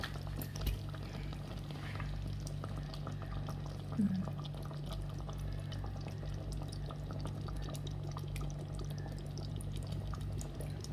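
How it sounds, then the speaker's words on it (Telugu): Cooking oil pours into a pot of mutton (boti) curry, giving a steady, soft liquid trickle with faint sizzling and stirring throughout, plus one small clink partway through. "మనం సరిపడా ఆయిల్ కూడా వేసేసుకుందాం అండి ఆయిల్ కూడా"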